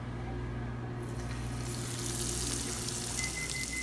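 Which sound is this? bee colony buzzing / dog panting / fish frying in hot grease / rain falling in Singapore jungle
fish frying in hot grease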